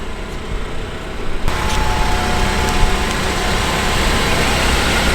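A repaired Acura TSX, its wrecked front end just rebuilt, drives along with a steady, loud engine and road rumble that swells slightly after the first second and holds continuously with no talking.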